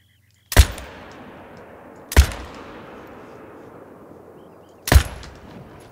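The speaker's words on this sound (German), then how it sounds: "der erste Schuss des Tages" Three loud hunting rifle shots ring out in theHunter: Call of the Wild while hunting white-tailed deer in Mexico, each a sharp crack followed by a long echoing decay, spaced irregularly.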